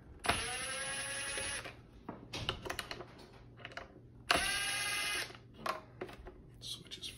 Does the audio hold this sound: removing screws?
yes